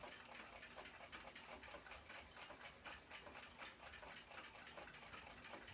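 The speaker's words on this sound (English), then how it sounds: "I've installed this bushing and it's time to ream it to fit. I'll use a reamer and burnishing broach." A hand reamer cuts through a newly installed brass bushing in an Austrian Zriny clock plate, making quiet, rapid, rhythmic scraping strokes that repeat steadily, with no talking.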